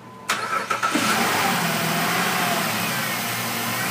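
A 2006 Jeep Liberty with a 3.7 liter engine cranks briefly with a few uneven chugs, then catches and settles into a steady, fairly loud idle close by.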